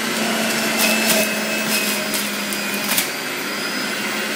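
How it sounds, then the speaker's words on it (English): A juicer grinds celery with a steady, loud motorized whir that runs without a break the whole time, with faint rattling of stalks being fed in. "So now, the juicer stops."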